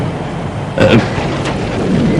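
Thunder rumbles through a stormy night, a broad burst swelling near the middle over a steady wash of rain-like noise, with a fainter second rumble toward the end and no voices.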